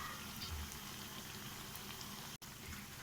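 Aloo tikki, potato patties, fry in oil in a pan, giving a steady dense crackle and bubbling sizzle that stays close and even throughout, with no voices.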